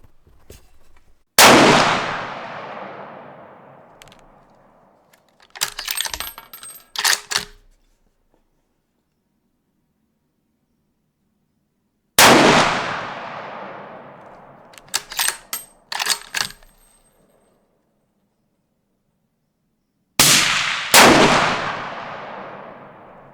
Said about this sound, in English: So now we're shooting the Federal ELDX 75 grain, and we're going to get 3-round average for that as well.